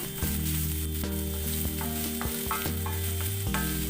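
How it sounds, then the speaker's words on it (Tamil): Onions sautéing in oil left over from frying fish, a continuous close sizzle and crackle with regular scraping stirs of a spoon against the pan. "இந்த வெங்காயம் மீன் பொரிச்ச எண்ணெயில் நல்லா வதங்கினா தான் நல்லா வாசமாக இருக்கும்."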